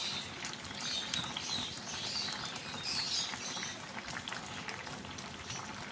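Sweet jujube pickle syrup boiling steadily in a pot, a dense close bubbling patter that holds at an even level throughout with no voices.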